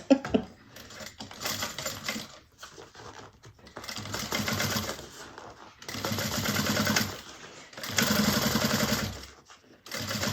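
A sewing machine top stitches through a seam on a Nola bag, running in several steady bursts with short pauses between them, close and fairly quiet, with no talk.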